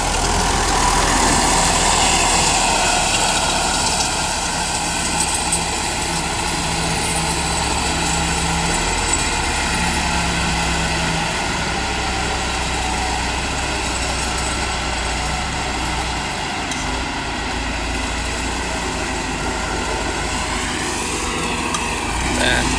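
A farm vehicle's engine runs in low eighth gear at low revs during harvest season work, a steady loud drone that persists throughout, with someone speaking over it.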